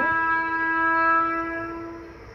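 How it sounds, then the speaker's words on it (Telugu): A train horn sounds near a railway station in a village, one long loud sustained blast with steady harmonic tones that gradually fades toward the end, no talking. "మా ఊర్లో ట్రైన్ హారన్ శబ్దం విన్నారా?"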